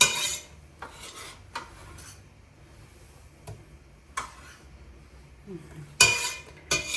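Chopped onion tipped straight from a cutting board into a pan, heard as a few sharp scraping, clattering bursts over a faint low sizzle, close by with no talking.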